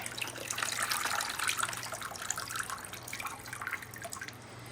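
Water flushes through a potted orchid during watering, a close, steady pour with splashing and dripping that gradually eases toward the end, with no talking.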